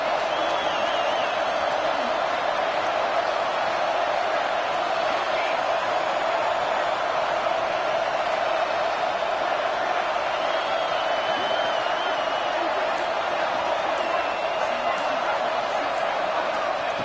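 A football stadium crowd roars steadily and loudly for a big third-down play, a dense sustained wall of cheering with no break or lull.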